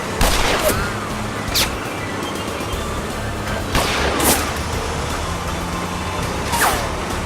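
Fireworks rockets launched in the video game Lost Horizon, several sharp whooshing bursts and bangs spaced a few seconds apart, loud and close, over a low rumbling background.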